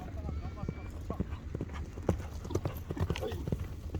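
Horse hooves clip-clop in a steady, fairly close rhythm of sharp knocks while people talk over them.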